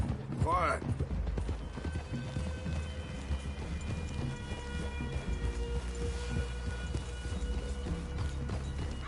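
Steady clip-clop of horses walking at an unhurried pace in Red Dead Redemption 2, with music and ambient game sounds running underneath throughout.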